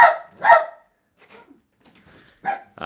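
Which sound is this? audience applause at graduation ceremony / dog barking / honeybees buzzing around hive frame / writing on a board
dog barking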